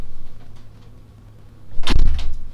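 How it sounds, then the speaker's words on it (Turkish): A door is pushed shut with a single solid thump and brief rattle near the end, close and loud after a quiet stretch. "şu kapıyı kapatayım bir saniye"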